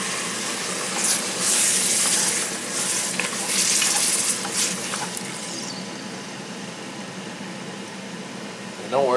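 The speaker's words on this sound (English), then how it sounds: "You want to stir up your shrimp head stock, get all that flavor floating around in there." Shrimp head stock sizzles and bubbles in a hot pot while being stirred, a steady loud frying hiss with scraping surges near the start, fading slightly toward the end.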